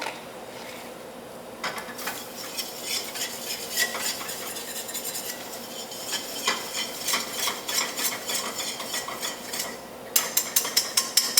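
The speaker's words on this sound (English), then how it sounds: "The reason I use a whisk and not a spoon is because then I can scrape the bottom at the same time." A whisk rattles and scrapes steadily across the bottom of a pan of enchilada sauce, continuous close metallic swishing with faster, louder strokes near the end.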